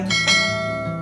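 A bright bell chime rings out once, loud and close, its resonant tone sustaining and slowly decaying.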